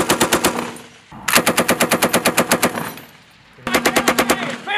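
Machine gun firing rapid bursts during a military live-fire exercise, three long loud strings of shots separated by short pauses, close and with no talk over them.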